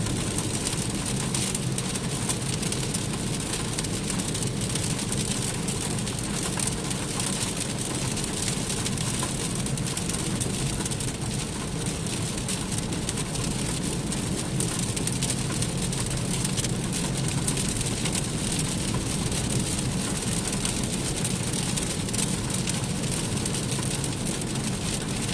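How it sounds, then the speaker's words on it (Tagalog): Heavy rain falls on a Dubai street on a gloomy day, a constant broadband hiss and patter that holds steady and loud throughout, with faint traffic rumble underneath. "lumalakas ng ulan"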